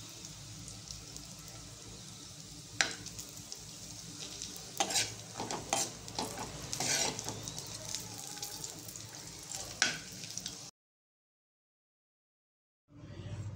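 Cashews and raisins roast in ghee for kesari, with a soft sizzle and repeated spoon scrapes and taps. The sound cuts to silence for a few seconds near the end, then returns faintly.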